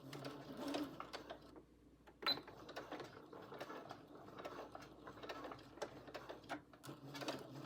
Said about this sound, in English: I'm going to start with a stitch that's straight, just 1 or 2 stitches just to secure it, and I'm going to make sure I reinforce my stitch by back stitching